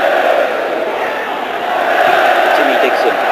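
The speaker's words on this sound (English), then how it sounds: "the crowd cheering every pass" Dense stadium crowd at the 2007 AFF Cup football match between Singapore and Laos, a loud sustained roar of cheering and shouting that stays steady throughout.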